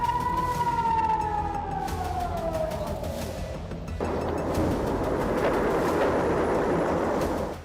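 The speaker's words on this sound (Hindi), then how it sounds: "इसी दौरान आयरन डोम एक्टिव हो गया, सायरन बजने लगी।" Air raid sirens wail over Tel Aviv as Iron Dome activates against incoming missiles, a loud sustained rising-and-falling tone at first, then giving way to a dense, roaring wash of noise.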